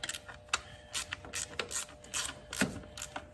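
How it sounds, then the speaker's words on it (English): A ratchet wrench backing out a T30 Torx screw on an Audi 2.0 TFSI engine, a rapid series of close, crisp pawl clicks in short bursts over a few seconds, no talking. "we unscrew the T30."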